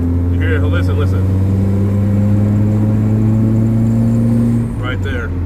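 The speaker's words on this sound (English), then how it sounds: "Now I need to fix that belt." A car with new tires and a repaired exhaust is being driven while a worn engine belt gives off a steady, loud whining drone over the engine rumble, which dips slightly near the end.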